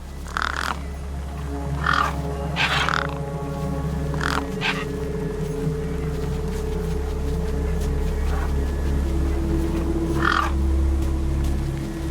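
Crows or similar gang birds caw in scattered bursts in the video game Beyond A Steel Sky, harsh calls at moderate distance over a steady low environmental drone that fills the scene.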